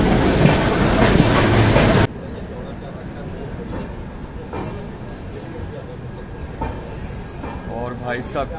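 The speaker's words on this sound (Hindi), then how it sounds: "हमारी ट्रेन पहुंच गई है कानपुर रेलवे स्टेशन" Amrit Bharat Express train pulling into Kanpur railway station in the morning, a loud rumbling burst that drops to steady rolling rail noise with clickety-clack and a brief squeal near the end.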